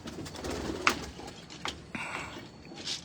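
Breeder pigeons cooing nearby in a loft, soft throaty murmurs mixed with faint flutters and a few sharper knocks, fairly quiet with no talk.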